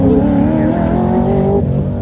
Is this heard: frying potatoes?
no